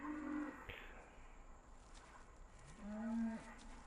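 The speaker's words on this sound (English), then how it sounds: "And here are our cows, guys." Cows mooing in the farming video game Estancia Lapacho, two separate drawn-out moos, one short near the start and a longer, louder one near the end, over a steady background hiss.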